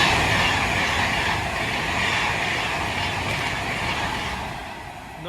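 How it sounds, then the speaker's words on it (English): Avanti West Coast train running from London Euston to Glasgow Central passes close by, a loud continuous rush of wheels and rail roar that holds steady before easing slightly toward the end. "we've got London Euston Glasgow Central coming down for Avanti West Coast"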